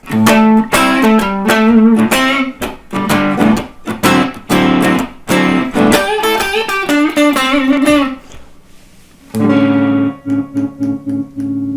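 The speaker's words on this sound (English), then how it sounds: "now I have a bit of gain dialed in on my amp and it sounds something like this" Electric guitar played through an amp with a bit of gain dialed in, a loud close run of picked notes and chords with slight overdrive, pausing briefly before a final sustained chord rings out.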